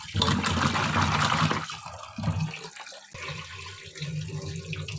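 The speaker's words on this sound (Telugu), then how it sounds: "ఇలా గిన్నెలో వేసుకుని వీటన్నిటిని కూడా శుభ్రంగా కడుక్కొని" Pieces of elephant foot yam are rinsed in a bowl, with water running and splashing loudly at first, then sloshing and swirling in shorter bursts nearby.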